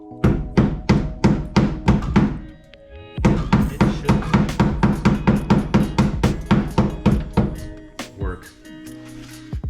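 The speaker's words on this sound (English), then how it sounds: "Just a rubber mallet, an old one" An old rubber mallet strikes a car wheel arch during arch rolling on a Lexus IS200, delivering rapid, steady dull thuds in two long close-up runs with a short pause between, followed by brief talk.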